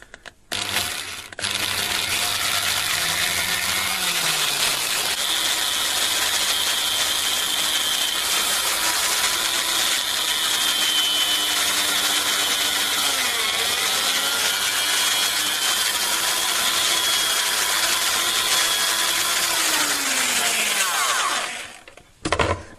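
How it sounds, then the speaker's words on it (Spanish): A drill drives a 4 mm bit into the centre of a wooden handle blank for a homemade washing-machine spider removal tool, a steady loud grinding whir with slight pitch dips under load, starting and stopping cleanly. "Realizaremos un agujero a todo lo que nos permita la broca, aproximadamente en el centro de la madera"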